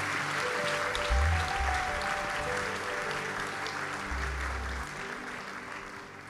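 A church congregation applauding, a steady broad wash of clapping that stays fairly even throughout, with a low rumble beneath and no clear talk.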